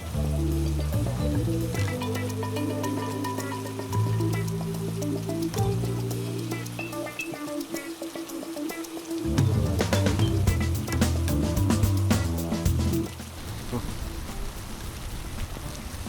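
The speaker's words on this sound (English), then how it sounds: "Still raining." Rain falls steadily during a motorbike ride through Phnom Penh, a continuous wet hiss against a tonal background, with voices faintly present.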